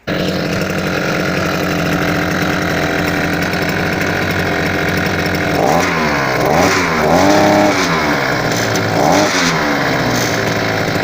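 A petrol brush cutter trimmer engine runs after a spark plug change, a loud steady buzzing idle with several quick revving swells near the end.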